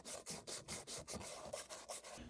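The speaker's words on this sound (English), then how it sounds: "take some sandpaper and just roughen up the surface of the pipe" Sandpaper rubbed back and forth to roughen the surface of a propane supply pipe before a clamp goes on, heard as about ten quick, even, close rasping strokes in a steady rhythm, faint overall and without speech.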